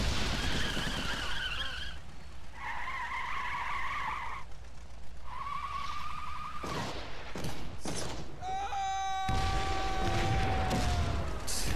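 A civilian vehicle in the video game Valiant Hearts: The Great War makes rising and falling engine whines and skidding tones, with sharp bursts and rattles in the second half.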